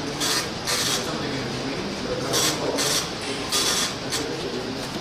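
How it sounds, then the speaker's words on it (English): An MPS 802 printer printing an address label, with a steady mechanical whir broken by repeated bright rasping bursts as the print head sweeps across the line, loud and close with no voices. "does it have to be an MPS 802 printer?"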